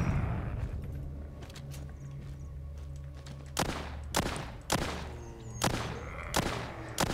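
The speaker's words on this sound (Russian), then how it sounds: "Взрыв. И там взрыв." A series of sharp, loud explosions in the game The Walking Zombie 2 go off one after another over a low steady hum, about five blasts in quick succession.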